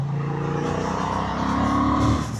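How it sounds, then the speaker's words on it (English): A 2026 Honda Hornet 750 motorcycle engine crackles and burbles on the overrun after a downshift, steady and close, with a slight swell near the end. "drop another couple of cogs. Make that lovely overrun noise."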